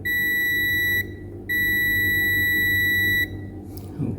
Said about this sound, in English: With the diode and continuity test, we check the connection here to here.